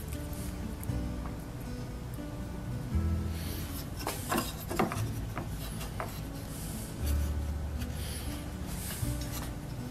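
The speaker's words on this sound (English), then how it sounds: "I'm using a safe edge file" A safe edge file rasps along a wooden-working auger bit during sharpening, with repeated short scraping and filing strokes, close and moderately loud, in irregular bursts.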